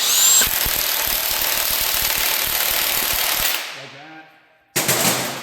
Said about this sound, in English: Always make sure you torque your crank bolt to spec.